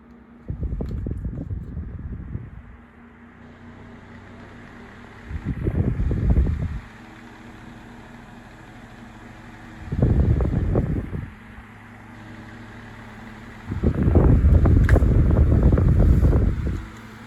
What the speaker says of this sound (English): Kind of let you get a feel for the motor sound and just the way the fan